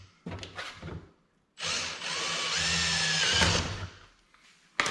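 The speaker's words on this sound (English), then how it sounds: "You obviously don't want to drill out through the other side" A power drill whirs steadily for about two seconds, its pitch wavering under load, after a few short clattering knocks while installing mud flaps on a Polaris RZR XP 1000; close and loud.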